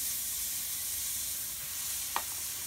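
Flat iron steak coated in TXQ 956 rub sizzles steadily on a hot grill grate for a reverse sear, a close, even hiss with one short sharp tick near the end and no voices.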